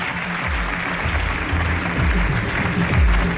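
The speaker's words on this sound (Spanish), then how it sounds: "Os pido un aplauso para estos tres monstruos en el buen sentido de la palabra." Studio audience applause for three guests, a steady wash of clapping held at an even level throughout with a low hum beneath.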